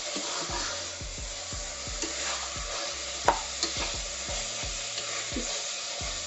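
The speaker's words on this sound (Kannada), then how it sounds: "ಮಟನ್ಗೆ ಉಪ್ಪು ಖಾರ ಚೆನ್ನಾಗಿ ಹಿಡಿಯೋ ರೀತಿಯಲ್ಲಿ 2 ನಿಮಿಷ ಫ್ರೈ ಮಾಡ್ಕೊಂಡು" Mutton pieces frying with chili powder, salt and turmeric for a biryani, giving a steady sizzle with repeated scraping stir strokes and a sharper clank near the middle, no talking.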